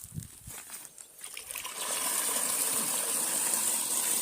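An electric well pump kicks in and water from a garden well starts rushing from a tap, building from light trickling and splashes into a loud, continuous gush close by.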